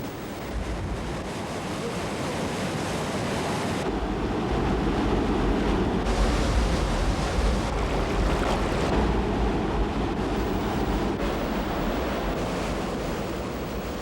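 Rushing water at a mountain valley waterfall in Odaesan, where lenok fish leap upstream, forms a loud, continuous broadband roar that swells slightly midway and holds steady throughout.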